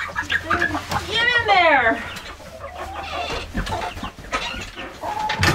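Chickens cluck and squawk close by in a farmyard pen, including a rising excited call, mixed with people talking over them.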